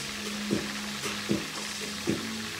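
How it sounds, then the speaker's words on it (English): Cod frying in a pan: steady sizzle with three evenly spaced bursts of louder crackling, close by and without voices. "I'm frying some fish right now."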